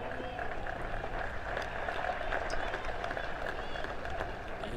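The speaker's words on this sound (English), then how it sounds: "rich applause coming in from that Valley cheer squad" Steady applause from the Valley cheer squad at a women's cricket semi-final between Gold Coast and Valley, a dense patter of clapping held at even strength from below the commentary box, with a faint voice mixed in.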